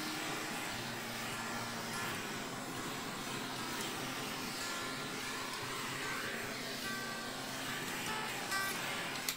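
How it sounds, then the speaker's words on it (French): A hair dryer blows over fresh Dutch pour paint on a canvas, a constant broadband whoosh held at even, moderate level for the whole stretch. "C'est parti pour le sèche-cheveux."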